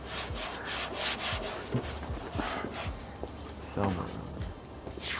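Masking tape is pulled and pressed onto the underside of a Seibon carbon fiber hood on a 2017 Honda Civic Si, giving close rubbing, scraping and short ripping sounds in irregular strokes, with people talking briefly.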